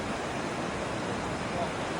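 The Aare river in Switzerland flows broad through a widening valley between mountains, making a soft, constant wash of moving water, even and unbroken, with faint wind-like hiss and no talk.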